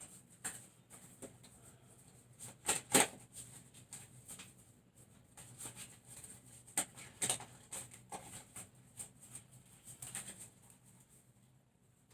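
An African Brazilian tarot deck is shuffled by hand in quiet, intermittent bursts of soft riffling and slapping, with short pauses between them and no talk.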